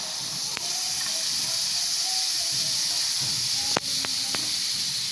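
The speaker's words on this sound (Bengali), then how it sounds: "গ্যাসে কড়াটা বসিয়ে দিয়েছি কড়াটা গরম হয়ে গেছে এবার আমি আমের কাঁপটা ঢেলে দেবো কড়ায়" Mango pulp hits a hot kadai on a gas flame with a steady, loud hiss and sizzle, close by, broken by a few sharp metallic clinks of the pan.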